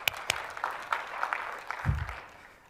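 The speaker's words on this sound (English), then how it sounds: "give some claps for the engineering folks here" Sparse clapping from a small conference audience at a developer session on camera and imaging apps, a few scattered claps that thin out over a couple of seconds, with a low thump midway.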